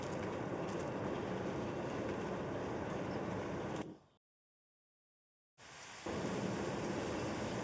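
Steady hiss of heavy rain in the farming video game Farming Simulator 25, cut off by a few seconds of total silence, then resuming just as loud.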